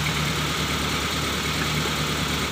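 A Mitsubishi Colt 120 SS engine idles steadily, a continuous low mechanical drone with slight vibration, held at an even level without a rise or fall in revs.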